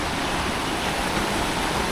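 Steady rushing of mountain water near a Mahadev temple in Sindhudurg, Konkan, during the monsoon; a continuous broadband hiss of flowing water, close and even, with no voices.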